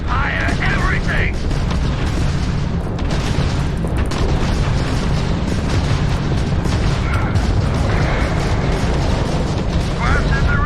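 Spaceship weapons fire continuously in a modded Starfield space battle, dense rolling booms and blasts layered over a loud engine rumble, with a voice speaking over the din.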